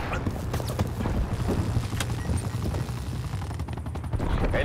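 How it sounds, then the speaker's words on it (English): An attack helicopter flies overhead during a Call of Duty: Black Ops Cold War match, its rapid rhythmic rotor thumping continuous and fairly close, with gunfire-like bursts and other game effects mixed in. "Enemy attack helicopter above."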